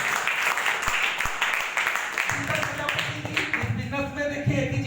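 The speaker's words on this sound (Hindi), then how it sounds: "एक बार जोरदार ताली बजाएंगे" Clapping from a crowd, brisk and fairly loud, with a voice starting to speak partway through as the applause continues underneath.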